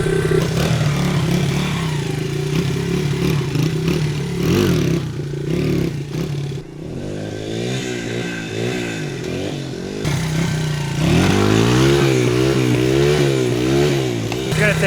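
A pit bike engine revs in steady, rumbling bursts with rising and falling pitch, fairly close, with people talking over it throughout.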